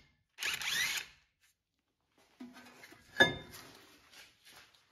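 A bolt is screwed into a front brake rotor hole on a 2010-2015 Lexus RX350 to pull the rotor free: a short burst of power-tool whirring, a pause, then a longer ratcheting run ending in a sharp metallic clunk.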